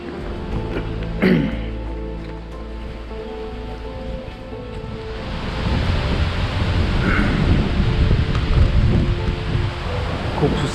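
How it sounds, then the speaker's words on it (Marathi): Strong morning wind on the forest trail to Padargad near Bhimashankar, a steady rough rush against the microphone that swells louder and gustier midway and stays heavy to the end. "खूप सुस्ताड असा वारा सुटलेला आहे सकाळी."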